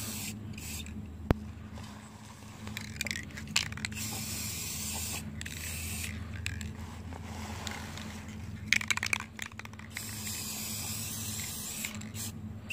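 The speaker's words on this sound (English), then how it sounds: "I'm using the metallic aluminum to spray paint with" Metallic aluminum spray paint hisses from an aerosol can indoors in several short and longer bursts, fairly quiet over a steady low hum, with no voices.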